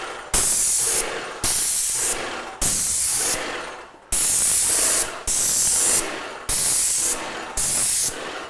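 A spray can coats a media cabinet with paint in seven steady bursts, each a loud, close hiss lasting about a second, separated by brief pauses.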